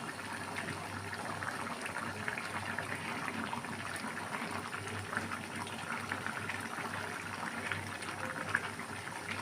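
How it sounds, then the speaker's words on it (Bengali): A pot of thick chicken curry with chana dal bubbles and simmers steadily, a continuous dense blubbing sizzle close by with no talking. "আমি আর তিন চার মিনিট ফুটিয়ে নেব"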